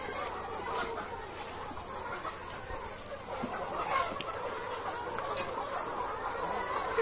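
Crowds of chickens and roosters at a poultry farm cluck and call amid a dense, steady din of flock noise and general barn bustle, continuous throughout without speech.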